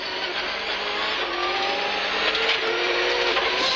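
A 1997 Subaru Impreza rally car drives hard on tarmac roads, its engine a loud, continuous close-up drone that climbs in pitch as it runs through the gears, with no talking.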